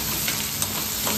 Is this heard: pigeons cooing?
no